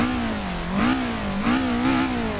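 Car engine in the Assetto Corsa racing game, a BMW M3 or Toyota AE86 set up for drifting, revving up and down in repeated swells, steady and fairly loud with no talk.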